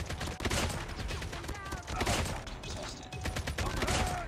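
Rapid gunfire from a Damascus ASM10 in the mobile shooter Call of Duty Mobile, loud, dense overlapping bursts that continue almost without pause through the clip.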